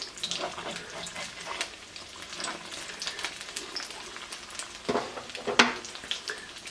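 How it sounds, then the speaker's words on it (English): Beaten egg fries in a very hot pan over a gas flame, a steady close crackling sizzle with scattered pops and light scraping throughout. "Make sure your pan's very hot and you're evenly over the flame so the egg cooks the same all the way around."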